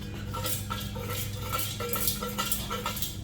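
Loose debris shaken around inside the removed old exhaust of a Nissan 350Z, giving a continuous metallic clinking and rattling, close by and fairly quiet, with no talking.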